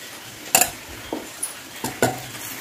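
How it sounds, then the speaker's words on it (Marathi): A spoon scrapes and knocks against a pan as mung dal is stirred over low heat for halwa. A few sharp metallic clinks and scrapes stand out over a faint background with no speech. "आणि आपण पटकन ही मूग डाळ मिक्स करून घ्यायची।"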